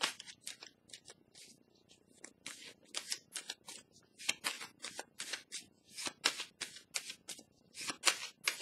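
Tarot cards handled on a table during a reading: rapid papery riffles and slaps in quick bursts, close and crisp, repeating throughout with no talk.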